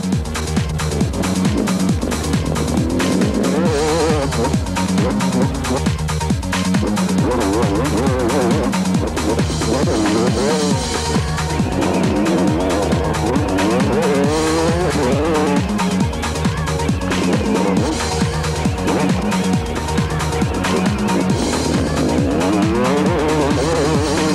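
On-board sound of a 250cc motocross motorcycle racing on the Ettelbruck Grand Prix circuit, with a loud, continuous engine roar that rises and falls as the rider shifts and throttles through the course.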